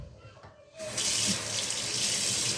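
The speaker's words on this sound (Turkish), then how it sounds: "şimdi suyunu koyacağım" Water pours steadily from a tap into a pot of olive-oil stuffed grape-leaf dolma, a strong continuous splashing rush that starts abruptly after a short quiet moment and keeps going.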